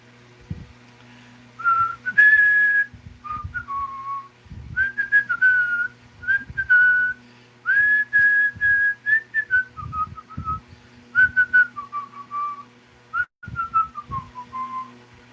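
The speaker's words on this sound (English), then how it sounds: "Yeah, I can whistle, but not at the moment." A person whistles a slow, wavering melody in short phrases separated by pauses, close and clear, with a low hum underneath.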